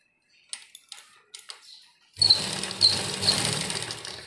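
A sewing machine stitching fabric for a homemade face mask: a few soft clicks and taps, then a close, continuous whirring run of stitching that holds steady to the end.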